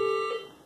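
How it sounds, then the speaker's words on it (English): A single electronic beep in a hospital room, a steady tone that cuts off and fades, otherwise quiet. "have to excuse the beeping in the background"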